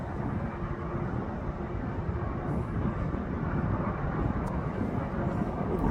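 An Airbus A330 rumbles at Birmingham Airport, a broad, steady engine roar heard from some distance without a break, with no one talking over it.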